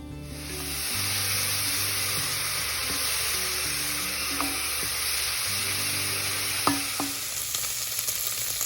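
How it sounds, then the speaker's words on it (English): Bacon sizzling steadily in a pan while being stirred around, a close continuous frying hiss with occasional scrapes and clinks of the utensil. "We're going to put it in, we're just going to stir it around and let that cook."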